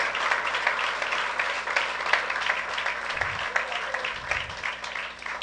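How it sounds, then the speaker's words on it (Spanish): A church congregation applauds the Lord loudly, a steady dense clapping that runs throughout without a break. "Y a su nombre, denle un fuerte aplauso al Señor"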